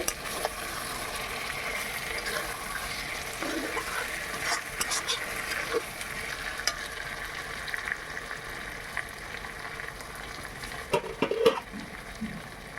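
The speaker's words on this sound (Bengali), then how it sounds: "আবারও নেড়ে চেড়ে দিচ্ছি মাংস" Chicken chaap pieces are stirred and cooked in a pan, a soft, low sizzle with intermittent scraping and clinks of a spoon against the pan, fairly quiet throughout.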